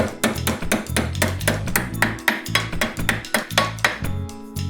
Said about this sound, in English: Let's just hammer it flat.